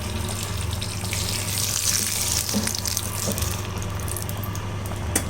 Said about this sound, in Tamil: இப்போ நம்ம கடுகு தாளிச்சதை இதிலே கொட்டிடலாம்